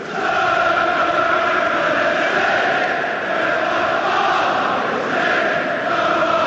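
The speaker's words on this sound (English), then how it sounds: "Listen to that crowd." A Premier League football crowd at Brentford versus Fulham roars continuously, a loud, sustained wall of massed voices and chanting that swells slightly and holds throughout.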